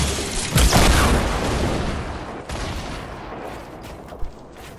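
Grenade blasts in a shooter video game: a dense, loud wall of explosive booms and rumbling gunfire, with a heavy burst near the start, another around the middle, and a sharp crack near the end.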